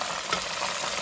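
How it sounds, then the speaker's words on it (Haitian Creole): Hot oil sizzles and crackles steadily as fish fries, a dense bright hiss with no voices. "Ça veut dire que le poisson bien frit dans l'huile."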